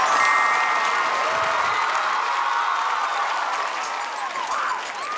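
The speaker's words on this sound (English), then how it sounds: "Give her a round of applause." Studio audience applause and cheering on a children's talent show, a loud, dense wash of clapping with cheers and whoops that holds steady and eases slightly near the end.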